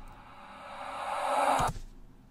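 A swelling wash of sound rises gradually in volume, then cuts off abruptly into a short hit, like a note played backwards.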